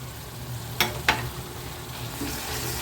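Masala spices (coriander, chilli, cumin and pepper powders) sauté quietly in oil for a paneer gravy, a soft low sizzle broken by two sharp spatula scrapes near the start; no voices.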